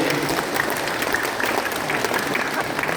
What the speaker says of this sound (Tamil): நீங்கள் பலமாக கைத்தட்டுவதால்